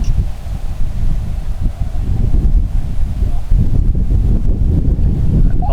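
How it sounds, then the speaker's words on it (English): Strong wind roars continuously and batters the microphone at an outdoor park radio station after a night of severe weather, a loud, unbroken low rumble with no talking. "It is incredibly windy here."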